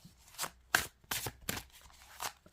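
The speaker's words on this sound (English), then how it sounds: "I love hearing cards shuffle." A large Pastoral Tarot deck is shuffled face down in a quiet room: five or six distinct riffling bursts, each a short crisp flutter of cards, close and clear with short gaps between.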